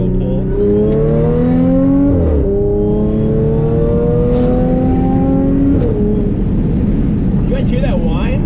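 Supercharged car accelerating hard in second gear, engine note and blower whine rising in pitch through the revs, with a short dip at a shift; loud and close from inside the cabin, with people talking over it.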